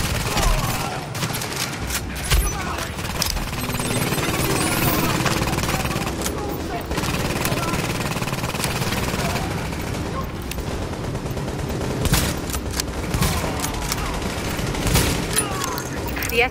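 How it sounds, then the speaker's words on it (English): Heavy gunfire in The Division video game at a field hospital rooftop fight, dense bursts of automatic shots and booms throughout, with game radio voices speaking over the shooting. "escort party's taking heavy fire from the roof"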